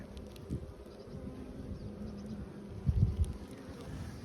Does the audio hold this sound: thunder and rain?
no